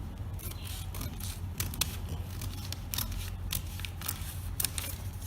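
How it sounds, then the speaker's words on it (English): Scissors cut through shirt fabric along the neckline of a pattern, producing a close, steady series of crisp snips and slicing rasps with short gaps between strokes. "The first thing I'll do is to cut the neckline."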